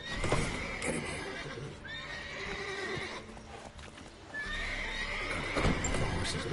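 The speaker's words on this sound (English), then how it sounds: "Gotta call the horses before they wake the guards." Horses in the video game The Witcher 3 whinny several times, high drawn-out neighs over soft hoof clip-clops and a low ambient background.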